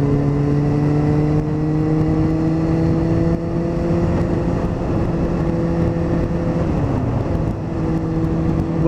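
A chain-drive Kawasaki ZZR600 motorcycle engine runs as the throttle is twisted, giving a loud, close, steady droning note that shifts pitch slightly and dips briefly near the end.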